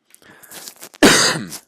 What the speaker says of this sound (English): Sorry for the cough, I'm still getting over a little bit of a cold.